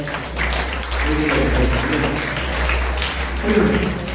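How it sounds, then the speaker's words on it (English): Applause for novice public speakers at a workplace presentation event, a steady wash of clapping heard over a low hum, with a hint of voices in the room. "So a big round of applause for every single one of them."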